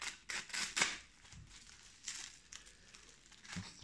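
A cardboard parcel is cut open by hand, with quiet scraping, crinkling and slicing noises in irregular short bursts, faint and close with no voice.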